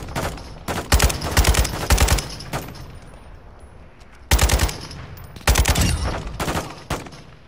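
Automatic gunfire in a war video game comes in loud, close bursts of rapid shots separated by short pauses, with a few single cracks between them.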